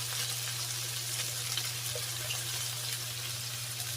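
Shrimp sizzling in garlic butter in a pan after being flipped, a steady close hiss and crackle running evenly throughout with no voices.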